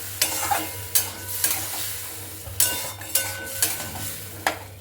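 Pea dal with pumpkin greens stirred in a pan, a regular series of spoon scrapes against the metal every half second or so over a low sizzle, close and alone.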